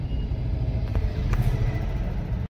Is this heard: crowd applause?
no